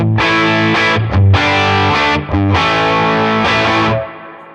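An electric guitar plays chords through a Tone King Imperial amp plugin with reverb, the clean channel turned fully up, strummed in a few firm bursts with a brief pause, ending on a ringing fade, close and loud.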